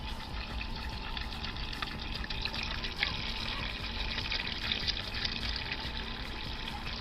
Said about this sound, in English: the first thing I'm going to do is I'm going to empty the jug down the drain